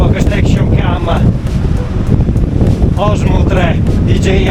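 Strong, steady wind buffets the microphone at the overflowing Ridracoli dam, a continuous roaring rumble throughout, with a person talking over it in bursts.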